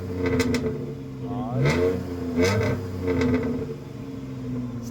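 A Dodge Magnum V6 with an RT exhaust and mid-muffler delete revs several times, each rising and falling burst close and fairly loud over a steady idle.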